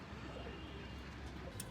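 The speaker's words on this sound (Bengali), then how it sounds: "আমার খামারের সবচেয়ে একটি সুন্দর বাচ্চা হচ্ছে এই কবুতরটি" Pigeons cooing on a pigeon farm, faint soft coos against a low steady background hum.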